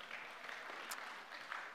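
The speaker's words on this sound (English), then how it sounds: "Give yourselves a big round of applause." A church congregation applauding during a Sunday service, faint and distant clapping from a group that carries on evenly with a few sharper claps standing out.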